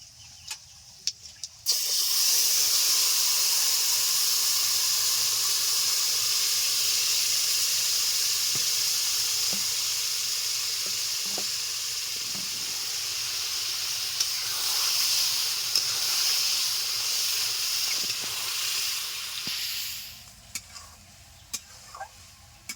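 Tamarind hits a hot pan for tamarind pickle and sets off a loud, continuous hiss that begins abruptly, holds steady for about eighteen seconds with small clicks, then cuts off into quiet.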